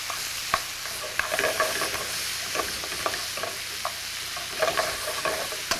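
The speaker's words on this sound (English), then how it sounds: "we're going to start turning our tips now" Steak tips frying in olive oil in a pan, a steady crackling sizzle with small spatter pops as the pieces are stirred and turned, close and continuous with no voices.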